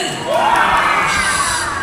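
A seated crowd at a community gathering bursts into loud, close cheering and shouting with some clapping, one short burst that holds for about two seconds.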